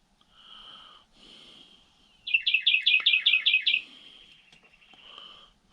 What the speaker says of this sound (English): No, that sounds like a female cardinal.